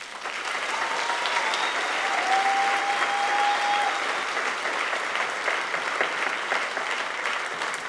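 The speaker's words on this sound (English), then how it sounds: "One more round of applause, please, for these amazing..." Sustained audience applause at a high school choir finale, a dense steady wash of many hands clapping throughout, with a few faint voices and whistles mixed in.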